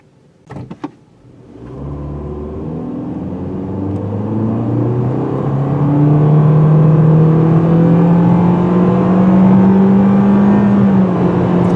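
2018 Toyota C-HR with a CVT automatic accelerating hard in a performance run, its engine drone rising and holding a loud, steady whine inside the cabin after a brief click at the start.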